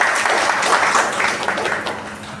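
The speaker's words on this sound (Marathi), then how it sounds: "तर आज तिच्यासाठी खूप खूप टाळ्या द्यायच्या आहेत तुम्ही परत एकदा" Applause from a seated audience at a retirement felicitation ceremony, honoring the retiree's wife, a dense burst of clapping that swells briefly and then tapers off.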